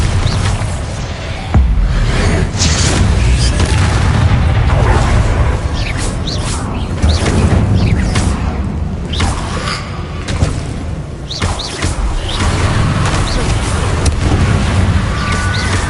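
Bombarda blasting spells in Hogwarts Legacy, a loud dense stretch of repeated booming explosions and crashing impacts with whooshing spell effects, continuing throughout.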